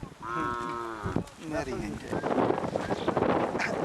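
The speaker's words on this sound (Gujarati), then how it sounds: "આ પશુધન જે સવારના 8:15 વાગે ચરવા નીકળ્યું હતું" Cattle out grazing at a lake give a long, loud moo followed by shorter lowing calls, with wind buffeting the microphone and a voice talking nearby.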